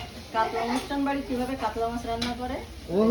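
Mustard oil sizzling in a pan, a soft hiss running underneath a person talking over it for most of the stretch.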